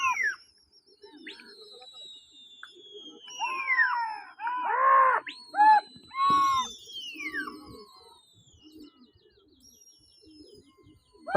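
Racing pigeons in flight during a competition give a few clear chirping and whistling calls with short cooing bursts, moderately close and fairly loud, with quiet gaps between.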